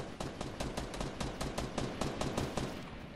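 Automatic gunfire in Fortnite gameplay, a rapid steady burst of about fifteen evenly spaced shots, fairly close and continuous for the whole short stretch.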